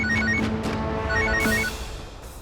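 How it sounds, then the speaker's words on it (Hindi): A telephone hidden in a doctor's hospital cabin rings after a call is dialed, a bright repeating electronic ring over a busy background of music and noise, steady then dropping off near the end. "विवान ने वो छिपाए हुए फोन पर उनका नंबर डायल कर दिया है।"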